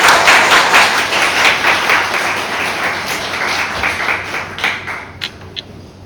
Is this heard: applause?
yes